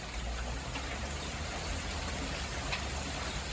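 Rain falls steadily outdoors on a quiet morning, making a soft, even, distant hiss with faint patters and no voices or birdsong.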